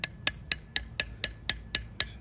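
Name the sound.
carving limestone plinth with chisel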